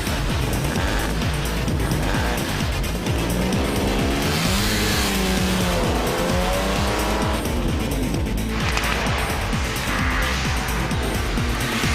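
A 1939 vintage race car at Lime Rock roars loudly past with a rising, shifting engine note, tire squeal and gear changes, the sound swelling close and fading away over about twelve seconds.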